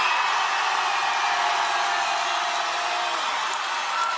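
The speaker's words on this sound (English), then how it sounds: "If the crowd feels that Majid has won, you make some noise at the count of three" A crowd at a hip hop dance battle makes noise to vote for a dancer: a loud, sustained roar of cheering and applause that holds steady without a break.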